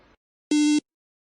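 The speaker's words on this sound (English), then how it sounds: "it will play the 300 Hertz tone for about 300 milliseconds, and then there will be no sound" A single short electronic beep, a pure steady 300 hertz tone lasting about 300 milliseconds, followed by silence.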